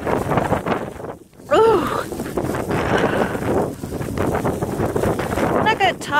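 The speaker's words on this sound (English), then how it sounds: "walking into this wind and snow" Strong wind with blowing snow buffets the microphone as someone walks through a snowstorm in Elgin, Nebraska, a steady loud roar and rustle throughout, with a brief exclamation from a voice partway through.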